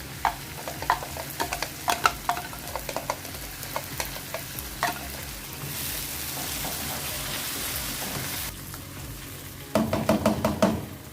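Blended fresh tomatoes poured into a hot pan for rigatoni pasta sauce, hissing with a steady sizzle amid clattering spoon stirs and scrapes, close and fairly loud.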